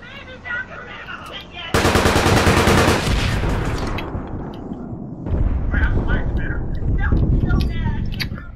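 Loud, dense bursts of automatic M16 rifle fire in the APB Reloaded shooter game, with a sustained rattling volley followed by further rapid strings of shots, while a voice talks over the gameplay.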